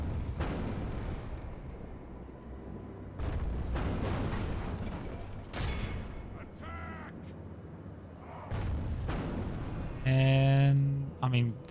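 Siege artillery shots slam into a castle wall in Medieval 2 Total War, heard as several heavy, booming impacts spaced a few seconds apart over a rumbling battle din, ending with a sustained brassy tone.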